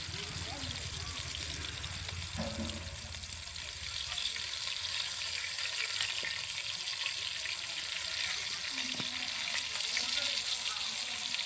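Steady bright sizzle of pomfret fish frying in oil, a constant hiss running throughout with faint clinks, close and even, with no voices.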